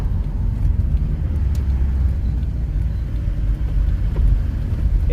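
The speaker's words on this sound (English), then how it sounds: "I am literally, as we're speaking, driving up the hill to the workshop now." Low, steady rumble of a VW T4 van climbing a hill, heard from inside the cabin as a continuous road and engine drone with no talk.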